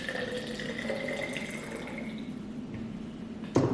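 Tap water runs steadily into a cup at home, a soft continuous pouring rush under faint room hiss, ending with a short clunk.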